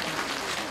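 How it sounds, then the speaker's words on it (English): An audience at a talk about Lord Mahavira claps in a short, steady burst of many hands, a dense wash of applause filling the whole moment. "clap for Lord Mahavira"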